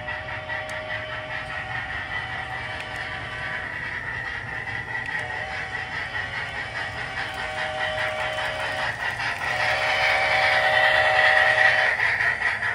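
A Bachmann HO scale Chesapeake & Ohio 2-6-6-6 model steam locomotive with DCC sound runs at full speed, giving a steady, close chuffing drone with sustained whistle-like tones that swell louder toward the end.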